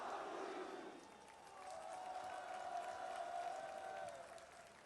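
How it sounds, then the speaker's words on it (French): Massive stadium crowd in Paris roars and applauds to welcome PSG player Renato after a Champions League victory, a distant, steady wash of cheering that swells and fades without any clear voice on top. "À vous de l'applaudir et de l'accueillir, Renato!"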